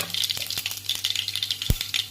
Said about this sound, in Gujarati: તેલ આવી ગયું તો વઘાર કરશું.